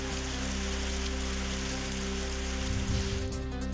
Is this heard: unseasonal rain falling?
yes